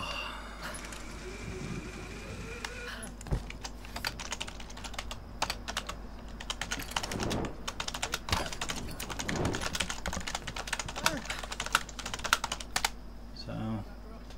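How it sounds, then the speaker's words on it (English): Steady clatter of typing on a computer keyboard runs through the whole stretch, close and fairly loud, with dense irregular keystroke bursts over a low background hum from Tomb Raider (2013) game audio. "I'm typing away as well"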